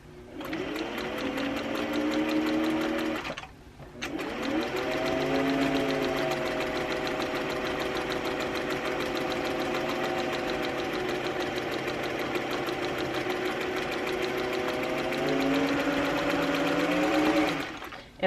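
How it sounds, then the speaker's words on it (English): A sewing machine runs a straight seam through tie-dyed curtain fabric, a close, steady whirring stitch with a brief pause early on before it carries on evenly to the end. "We're gonna sew forward just a little bit and backwards to lock it in, and just make a straight seam all the way down this side."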